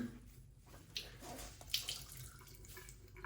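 Hand-washed clothes are rinsed and drained in a sink, producing a quiet, brief trickle and splash of running water with a couple of small drips.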